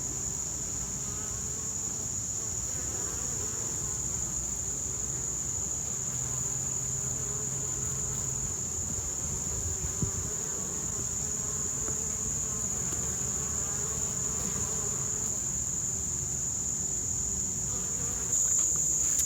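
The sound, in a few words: bees foraging around flowers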